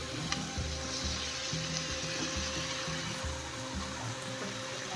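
Okra sizzling and crackling steadily in a hot pan while cooking dahi bhindi, with a dense frying hiss and regular scraping stir strokes.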